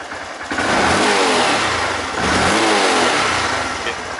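A used Honda Grom JC61 125cc motorcycle engine catches and revs up, a loud close steady drone with a slight dip and rise midway.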